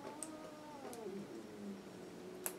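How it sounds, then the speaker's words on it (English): A house cat gives a drawn-out, wavering meow up close, followed by a couple of quieter mews, with no one talking. "Cats!"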